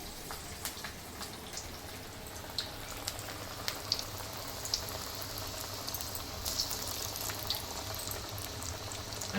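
Vadas frying in hot oil until golden, giving a steady soft bubbling sizzle with scattered small pops and crackles throughout, close and continuous.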